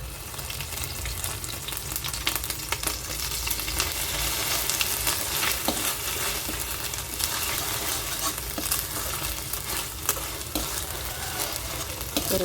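Onion with ginger garlic paste sautéing in a pan for a mutton curry, giving a dense, steady sizzle and frying hiss throughout, close and fairly loud.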